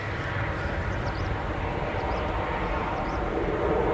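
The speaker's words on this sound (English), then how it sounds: "So Ryanair 737 MAX 8, so it's off to Malta." A Ryanair Boeing 737 MAX 8 at Manchester Airport, departing for Malta, gives a steady loud jet roar that holds constant throughout, with a faint high whine above it.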